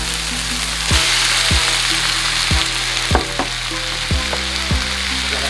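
Shrimp sizzling loudly in a hot pan, a dense continuous hiss close up, punctuated by several regular thuds and scrapes of a utensil moving the shrimp around, with no voices.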